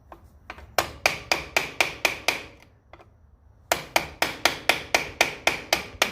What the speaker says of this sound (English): I just take a big screwdriver and a pair of lineman's pliers. Just tap it like that, and that loosens it up.